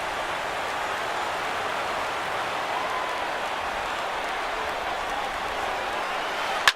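A packed baseball stadium crowd of over 39,000 at a Dodgers versus Rockies playoff game roars steadily on its feet, a dense, sustained wash of cheering heard from within the stands.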